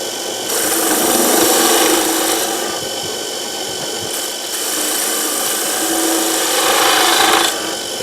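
A skew chisel takes light cuts on wood spinning on a lathe, giving a close, steady rasping hiss that swells and eases in several long passes.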